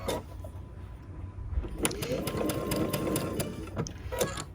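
A sewing machine runs at home, stitching Tula Pink butterfly quilt pieces with a regular foot, a close, steady mechanical whir with rhythmic needle clicks that starts softly and speeds up.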